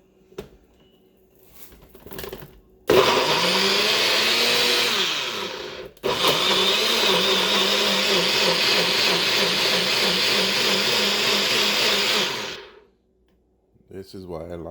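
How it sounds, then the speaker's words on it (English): A bullet blender blends a beet smoothie with vegetables, fruit and water, a loud high whine running in two long bursts split by a short pause, preceded by faint handling clicks and followed by quiet. "Let's take it to our blender."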